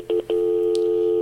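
Telephone dialing tones ring out while a Google Voice number is called: three short sharp tone bursts, then one long steady tone sounding loud and close with a brief higher blip partway through.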